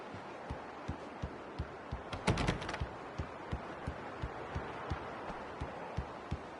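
A typewriter in the game Alan Wake clacks at close range, with a soft, regular tapping of keys and a short cluster of quicker, sharper strikes partway through.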